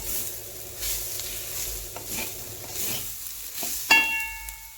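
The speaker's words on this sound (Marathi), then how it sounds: "लवंग दालचिनी आणि मिरे फोडणी टाकले तुपामध्ये आता छानपैकी खरपूस भाजून घेऊयात" Cloves, cinnamon and black peppercorns sizzle softly in hot ghee, with occasional stirring scrapes and a clear metallic clink near the end.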